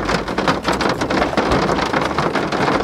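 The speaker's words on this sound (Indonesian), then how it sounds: "Ini kenapa hujan, ya Allah, hujannya gak berhenti-berhenti" Heavy rain falls nonstop as a dense, loud, continuous hiss and patter on surfaces, steady throughout with no voices.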